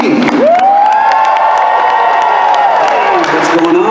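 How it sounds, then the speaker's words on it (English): An anime convention audience cheers and claps loudly in a steady burst, with a long whoop soaring over the crowd noise. "So one more round of applause for Keith."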